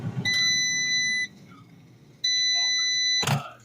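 An air fryer cooking boneless chicken gives two sustained electronic beeps, each about a second long and separated by a pause, followed by a short clatter.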